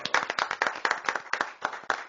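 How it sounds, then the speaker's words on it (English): Clapping at a Baker City council meeting, a few pairs of hands close by in a quick, steady rhythm that carries evenly to the end without fading. "Y'all give her another big round of applause"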